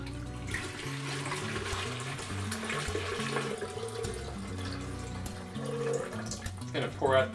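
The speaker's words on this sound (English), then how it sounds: "now I'm going to pour out a little bit of this treated water." Treated water pouring out of a tank through a PVC pipe for a purification check, a steady close rush of flowing water over low broadband noise, with a person talking briefly near the end.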